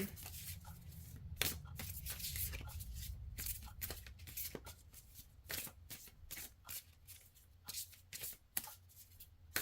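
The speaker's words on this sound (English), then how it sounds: "Let's pull some more cards here." Tarot cards riffled and shuffled by hand up close, a quick rhythmic run of papery flicks and snaps with short pauses between bursts.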